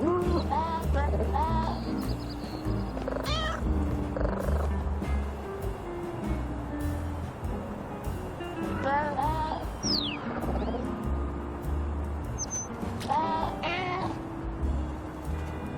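Several cat meows in the video game Little Kitty, Big City rise over soft, continuous background music, with a few bird-like chirps mixed in.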